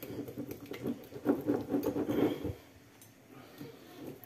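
Mustard mayonnaise sauce being stirred for a chicken liver sandwich, giving soft wet scraping and pattering strokes close by for a couple of seconds before the mixing eases off and goes quiet.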